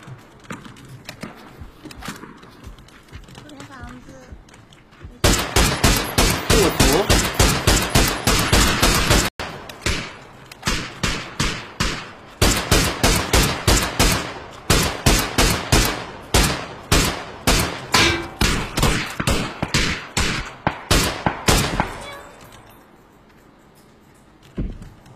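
Cannon fire in a video game sounds as loud rapid bursts of booming shots in long rolling volleys, broken by short pauses, with quieter rumbling between the barrages.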